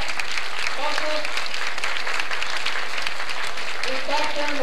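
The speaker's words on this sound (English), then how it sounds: "give Joseph Diaz from American Airlines a big round of applause." A crowd applauds steadily, claps blending into a continuous wash, while a person talks over it.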